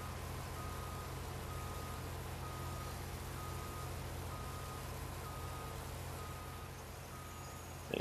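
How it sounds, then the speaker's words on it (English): Warning beeper on a nearly full farm vehicle in Farming Simulator 19, a faint, evenly spaced series of short beeps repeating over a steady low engine hum, with no talking. "when they put their beacon on and it starts beeping like that, that means they're"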